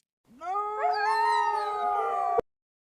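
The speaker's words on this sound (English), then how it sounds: "Fox." A fox calls in a single drawn-out, wavering howl of about two seconds with bright rising harmonics, heard close and alone before it cuts off abruptly.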